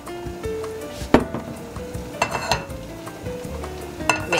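Hot oil sizzles steadily in a pan for frying quail eggs, with sharp clinks and scrapes of utensils against the pan breaking through the continuous crackle.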